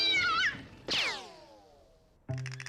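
A cartoonish cat meows in a rising, wavering cry, then gives a second, longer yowl, followed by a sudden bright tonal burst.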